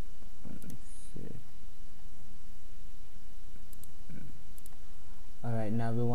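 A computer mouse gives several faint, isolated clicks over a quiet hum, and a voice starts speaking at the very end.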